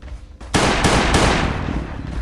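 Gunfire in the video game Last Day on Earth: loud, rapid shots hammer out in a continuous automatic stream, close and harsh, with no voices over them.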